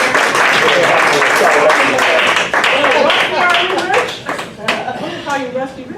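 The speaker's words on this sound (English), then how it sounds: "Give her a big round of applause." Audience applause at a Lake Mary Toastmasters morning meeting, a dense burst of clapping that fades over several seconds while voices start talking over the tail end.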